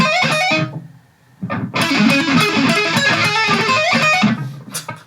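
Distorted electric guitar playing the first lick of a solo, a fast aggressive run, a brief gap, then a sustained dense burst of notes, loud and close with no talk.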